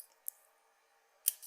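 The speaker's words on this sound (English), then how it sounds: "Snip." Small scissors snip thread at a fly-tying vise while a damselfly trout fly is tied, two brief crisp clicks close by, separated by a quiet pause.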